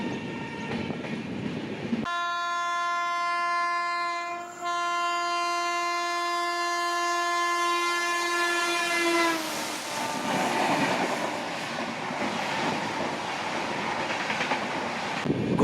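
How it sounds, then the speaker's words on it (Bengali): Kanchankanya Express passenger train leaving New Mal Junction through forest near Sevok, a loud sustained horn blast for several seconds over the rumble and rattle of moving carriages, then continued running noise. "নিউ মাল জংশন থেকে ছেড়ে দিল কাঞ্চনকন্যা এক্সপ্রেস।"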